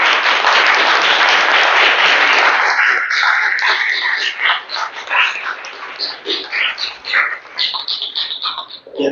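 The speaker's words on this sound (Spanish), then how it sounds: "ahora sí que un gran aplauso a Deri y a" Audience applause after a graphic novel book presentation, a dense loud burst of clapping for the first few seconds that thins into scattered, uneven claps and fades toward the end.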